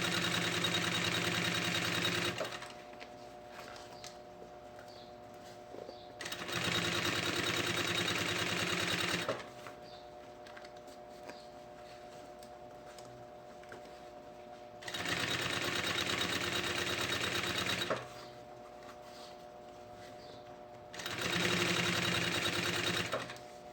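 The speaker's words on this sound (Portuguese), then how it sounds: "Vou virar aqui pra trás, ó, e vou rebater uma costura aqui, ó, na parte de dentro." A sewing machine stitches a seam on the inside of a lunch bag in four separate bursts of rapid, whirring needle strokes. Each run lasts a few seconds and quieter pauses fall between them.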